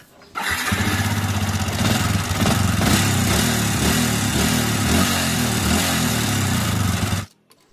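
A motorcycle engine with a worn piston runs steadily for several seconds with a rough, uneven chugging rhythm, close and fairly loud, then stops abruptly.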